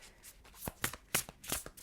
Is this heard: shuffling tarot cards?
yes